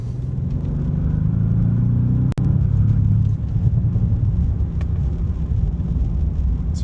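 A 2025 Bentley Continental GT Speed pulls along a UK road with a steady, loud low exhaust rumble, swelling briefly with burbling gurgles from the rear as it accelerates, one sharp click cutting in midway.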